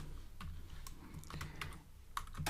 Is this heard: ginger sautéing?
no